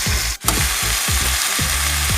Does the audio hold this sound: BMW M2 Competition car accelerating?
no